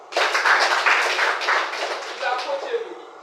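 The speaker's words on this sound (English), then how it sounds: "Please clap for her." Audience applause from a group of about 30 seated people at a broadcasting practical training session at a polytechnic, a steady burst of many hands clapping that continues for about three seconds, loud and close.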